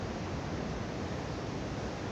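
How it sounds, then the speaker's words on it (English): Ocean waves rolling in on a sandy beach, a steady, dense wash of surf heard as continuous broadband rush without distinct breaks, close and fairly loud, with no voices. "listening to the waves roll in"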